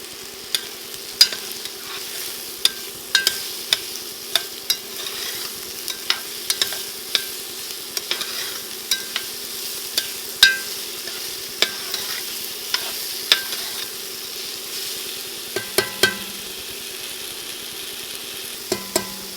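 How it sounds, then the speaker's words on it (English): Mushrooms stir-fried in a pan, a soft steady sizzle broken by frequent sharp clinks and scrapes of a utensil against the pan, close and alone. "Now to this, we're going to go ahead and add the mushrooms."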